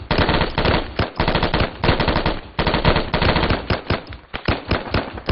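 Rapid automatic gunfire from the military shooter Arma 3 rattles in continuous loud bursts. Overlapping shots and short pauses between volleys keep it dense and close.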